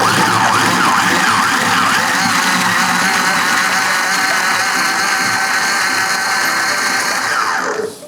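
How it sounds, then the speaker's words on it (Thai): A loud, steady high-pitched blender motor whine runs continuously for several seconds while blending fish meat, then cuts off abruptly at the end. "ให้เราปั่นเนื้อปลากันก่อนนะครับ"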